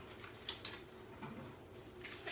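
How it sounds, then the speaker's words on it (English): Cinnamon star cookie dough, gluten-free and plant based, is mixed in a white bowl, with a few soft clinks and scrapes of a utensil against the bowl, faint and sparse. "So what we do is we mix that here in a bowl."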